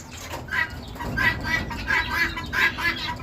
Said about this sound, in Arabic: طائر الفزان